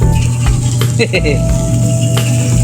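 Sambot sizzles loudly on an outdoor grill, a dense, crackling hiss with scattered pops and faint scraping, while voices talk over it.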